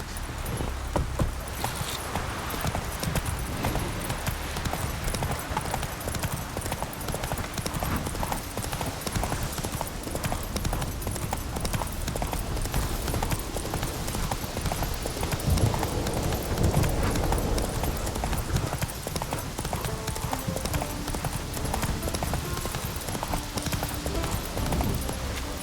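A horse gallops in The Witcher 3: Wild Hunt, its steady clip-clop of hooves running continuously and loudly over a dense game soundscape, with a brief whinny possible along the way.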